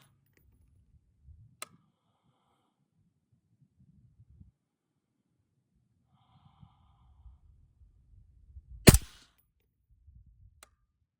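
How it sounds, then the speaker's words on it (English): A rifle firing 55 grain M193 FMJ rounds at a 100-yard range: one loud, sharp report with a short decay, and a couple of faint, brief cracks in otherwise quiet surroundings. No talking. "55 grain, M193, FMJ. Go ahead and send them."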